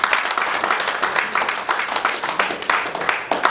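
A sports journalists' convention audience gives a round of dense, close applause, many hands clapping briskly in uneven waves that carry on loudly for several seconds with no speech over them.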